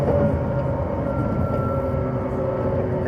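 On board a JNR 185 series train on the Holiday Rapid Kamakura service, a steady, loud rumble of wheels and motors fills the cabin, with a faint whine running through it and no voices.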